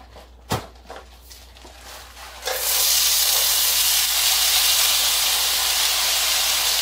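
Onions drop into a hot pan and break into a loud, steady sizzle that holds without a break, after a few light knocks and taps at the start.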